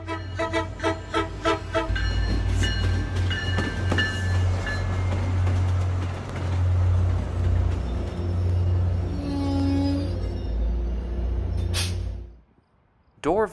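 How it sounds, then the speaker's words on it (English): Trains rumbling past Dorval station in Montreal, a loud continuous roar of wagons with horn toots and clattering, fading out near the end. "Let's see what trains come by in my 2-hour stay"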